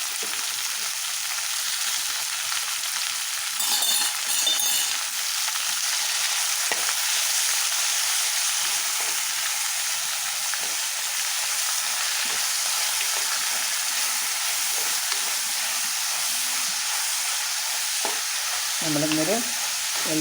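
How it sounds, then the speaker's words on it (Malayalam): Sliced onions with green chillies sauté in a pan for a crab roast, giving a steady close sizzle broken by occasional scraping strokes of a stirring spoon; no voices. "ഞണ്ടിൻ്റെ റോസ്റ്റാണ് ഉണ്ടാക്കുന്നത് കേട്ടോ നമ്മൾ ഉള്ളി ഇങ്ങനെ വഴങ്ങൾ വരട്ടുന്ന നല്ലതുപോലെ"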